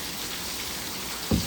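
Rain falling outside a cottage, a steady soft hiss throughout the short stretch, with a brief low thump near the end.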